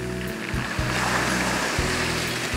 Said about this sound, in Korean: 파도가 칠 때마다 들리는 자갈 소리가 일품이죠.